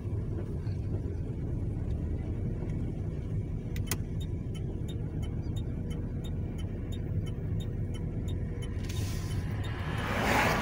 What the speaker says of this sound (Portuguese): Não dá porque vem carro